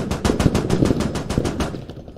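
Automatic weapon fire in the video game Squad rattles off a rapid burst of about fifteen evenly spaced loud shots, close and sharp, stopping abruptly just before the end.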